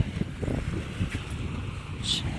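Gusty morning wind at Lake Como, Italy buffets the microphone with a low rumble, a faint whoosh rising briefly near the end, no voices.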